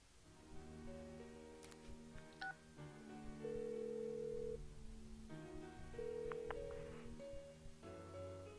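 A phone call in a Japanese role-playing video game rings out unanswered, a steady repeating electronic ring tone cycling several times at moderate level, alone without talk.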